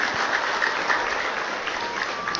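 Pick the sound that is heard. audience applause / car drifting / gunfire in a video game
audience applause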